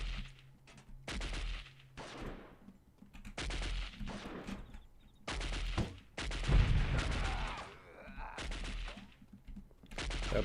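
Loud bursts of rapid gunfire from the 1998 video game Delta Force repeat in clusters, with short quiet gaps between volleys.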